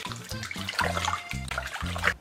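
Bathtub water sloshes and gurgles as a voodoo doll is pushed under the surface, in short repeated bursts of bubbling close to the listener.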